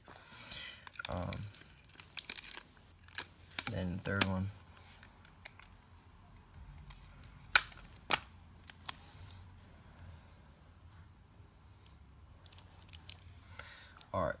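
Scissors snipping and crinkling paper while cutting out a paper fidget spinner, scattered close sharp cuts and rustles with pauses between, as a person talks.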